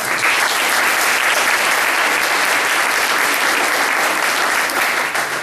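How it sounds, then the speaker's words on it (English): Loud, continuous round of applause from an audience in a performing arts center, dense clapping holding at full strength throughout before easing slightly at the end. "they deserve a round of applause"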